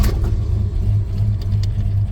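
A 1972 vehicle with a 4-speed sits idling, its engine giving a steady low rumble with a slight uneven pulse, loud and close, with no voices.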